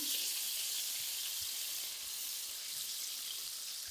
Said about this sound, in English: I'm just going to do a little bit of lemon juice just into the pan.